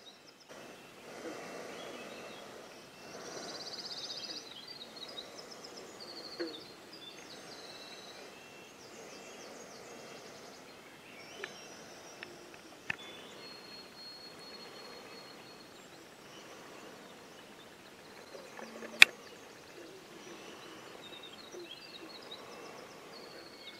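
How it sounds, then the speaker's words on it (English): Birds call across a lake at sunrise along a northern Ontario highland trail, with an owl hooting among the morning chorus; the sounds are distant and faint over a quiet background, broken by a few sharp nearby knocks. "A nice chorus of birds welcoming me to the..."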